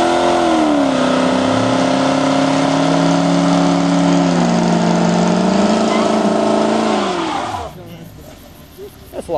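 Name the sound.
supercharged car revving and accelerating off the line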